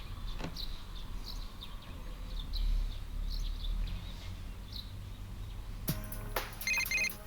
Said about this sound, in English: We're gonna get a phone call here.